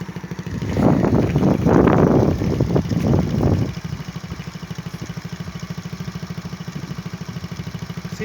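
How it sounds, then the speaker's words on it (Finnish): A Skyteam Monkey 125-style small motorcycle engine idles steadily while warming up, its fast even putter running throughout, with a louder burst of revving or clatter in the first few seconds before settling back to a smooth idle. "Tässä manki käy lämpimänä"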